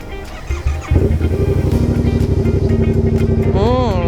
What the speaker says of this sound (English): Hear that sound, baby? I got my exhaust on now.